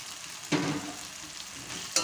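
Potatoes tipped into spice paste frying in oil set off a sudden louder sizzle that holds steadily, followed by another sharp burst of frying near the end, close and without talk.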